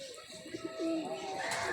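A domestic pigeon, a fancy loft bird with many flight feathers, gives a short, soft coo, close and fairly quiet, with a faint murmur of background noise.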